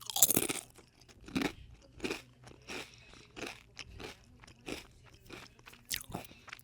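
Close, quiet crunching of crisp potato chips, bite after bite in a steady chewing rhythm, roughly two crunches a second.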